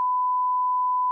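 A single censor bleep plays: a clean, steady electronic sine tone held at constant loudness for just over a second, alone, with no other sound.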